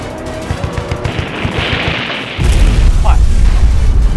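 Missiles fire from an attack helicopter during an aerial battle in a Chinese TV action drama: a rapid run of punchy bursts, then a loud, sustained roaring blast that fills the rest of the moment.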